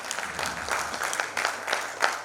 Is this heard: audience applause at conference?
yes